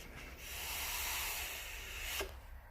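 A Steam Crave Titan vape atomizer fired at 3.4 volts gives a steady, fairly loud airy hiss and rustle for about two seconds, then stops abruptly.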